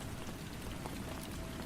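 Steady rain falling, a dense, even hiss of drops with low rumble underneath, constant and close with no pauses or voices.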